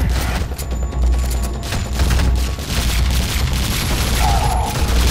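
Gunfire in the video game Fuse, a dense continuous barrage of shots and booms filling the whole stretch, loud and close with no clear gaps.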